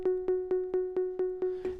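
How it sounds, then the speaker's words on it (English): A looped synthesized musical sample repeats a short sustained tone about four times a second, each repetition starting with a sharp click where the loop cuts in and out. "it kind of has this little clicking thing each time it cuts in or cuts out the loop"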